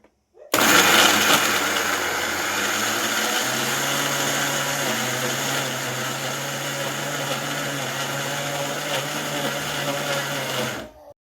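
A mixer grinder grinding coconut whirs loudly and steadily for about ten seconds, a close, harsh motor drone that starts abruptly and stops at the end.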